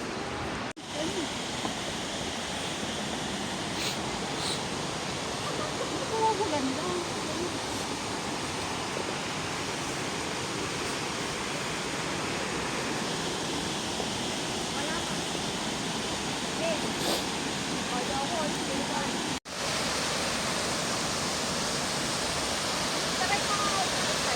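Shiraito Falls in Shizuoka, Japan, a broad waterfall giving a loud, constant roar of rushing water that fills the scene without a break.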